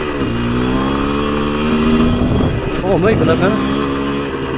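A Chinese dirt bike engine revs and rises in pitch on an off-road trail, loud and close throughout, with someone talking over the motor.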